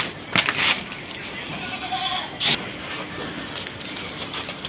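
Goats held for sale in Mumbai bleat a few times, moderately close, amid rustling and scuffling of the animals with a busy background noise, and no clear talking.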